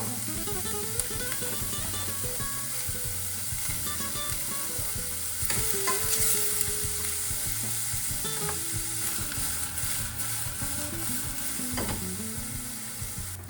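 Whole wheat atta noodles cook in a pan with a continuous close bubbling sizzle, broken by the scraping of occasional stirring.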